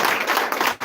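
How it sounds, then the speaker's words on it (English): Audience at a cross-border security meeting breaks into dense, loud applause, many hands clapping together in a steady wash that dips briefly near the end. "Sous votre tonnerre d'applaudissements"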